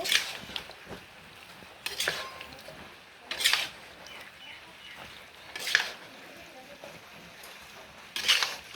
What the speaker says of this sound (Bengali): আবারও নেড়ে চেড়ে মিশিয়ে নেব।